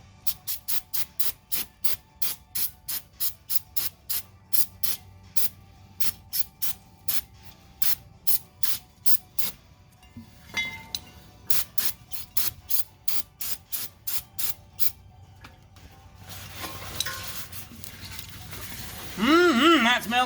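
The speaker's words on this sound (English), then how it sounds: "spray some brake clean on here" Brake cleaner sprayed onto a 2013 VW Passat brake rotor in rapid repeated short hissing bursts, a pause, then another run of bursts, followed by a longer noisy stretch near the end.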